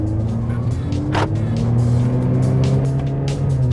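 An AMG car, a four-cylinder A45S or V8 C63, drones with a steady rising engine note as it accelerates in manual mode from a rolling start, loud and close throughout, with faint tire noise beneath.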